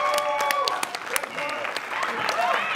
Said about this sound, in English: Guys, huge round of applause for the winning captain of the Brisbane Deceptors